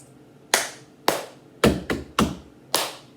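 A cup-song routine of sharp hand claps and cups tapped on a table: six crisp, close hits in a quick uneven rhythm with short decays.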